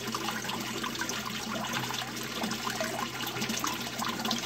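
Water trickles steadily through a U siphon in an aquaponics setup, a faint, continuous splashing and dribbling with no speech.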